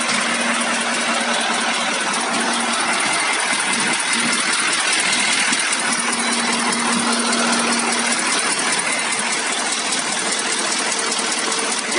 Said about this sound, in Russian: Слышим, как работает мотор.